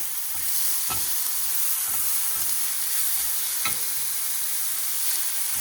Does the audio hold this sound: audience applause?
no